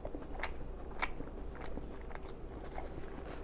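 Close mukbang-style eating of a Five Guys burger and fries: a few crunchy bites and soft chewing sounds over a steady background hiss, without speech.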